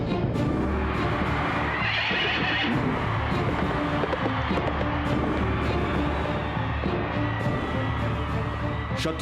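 A horse whinnies loudly in an animated retelling as the Ashvamedha sacrificial horse is set free, the call rising over a busy, crowded background that carries on steadily throughout.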